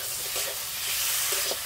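Fried potatoes and drumsticks being stir-fried together with spices, ginger paste and a splash of water for a Bengali fish curry, a loud continuous sizzle with scraping stirs, no talking.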